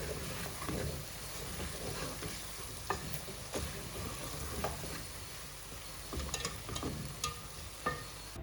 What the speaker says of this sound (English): So then you give it a good mix, so that it absorbs well in the meat.